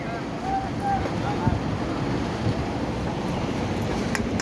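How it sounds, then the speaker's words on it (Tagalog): Wind rumbles and buffets against the microphone outdoors at a market in Dammam, a steady low roar with faint background sounds. "Dito malamig, medyo mahangin."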